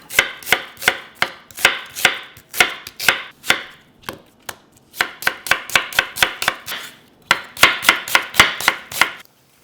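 Knife chopping two medium peeled onions on a board for Korean noodle soup, quick steady bursts of close, crisp strokes with a short pause midway, no talking.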